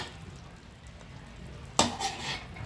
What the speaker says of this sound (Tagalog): Haluin muna natin ng konti.